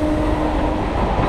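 A Dum Dum Cantonment local train runs along steadily, a continuous rumbling rattle of wheels and carriage with a low hum, heard from inside the coach at moderate volume with no talk.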